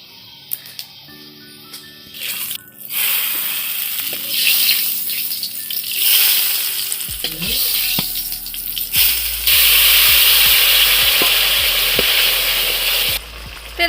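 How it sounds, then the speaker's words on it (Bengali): Panch phoron spices fry in hot oil in a home kitchen, sizzling and crackling steadily, with clatter and tap water noise at the start and a louder hiss toward the end. "তেলের মধ্যে 5 ফোড়ন সম্বাদ দিয়েছি"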